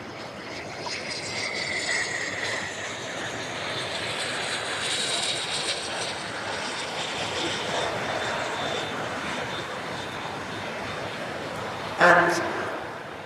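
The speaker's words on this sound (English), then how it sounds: "about to touch down out to our right, the L159A Alka" L-159A Alca jet touching down at the Farnborough International Airshow, a steady, distant broadband engine roar that holds throughout, with a voice talking over it and a brief louder rattle near the end.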